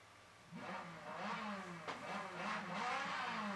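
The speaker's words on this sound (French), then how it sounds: "Là je peux démarrer le moteur." Car engine starting up in the racing game Forza Motosport 4, a quiet crank followed by a rising idle and gentle revving that builds steadily for several seconds, with no voices.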